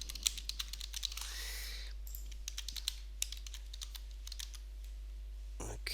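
Someone types on a computer keyboard while entering quiz answers, light quick keystrokes in short bursts over a steady low electrical hum.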